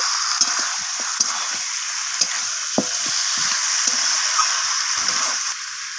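Chicken with garlic paste is stir-fried in a pan, giving a loud, continuous close-up sizzle punctuated by sharp clicks of a spoon against the pan every second or so, with no speech.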